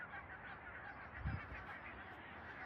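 Ducks or geese honk in a village in Estonia, a single short honk rising briefly over a steady outdoor wash of background noise, with no voices present.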